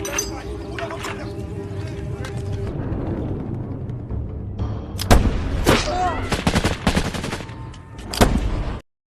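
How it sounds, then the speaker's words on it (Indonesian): Gunfire in a film scene as rebels are shot at: sharp bursts of shots crack out midway and again near the end over rumbling scene noise, then cut off abruptly. "Sander yang melihat hal itu pun langsung menembaki para pemberontak."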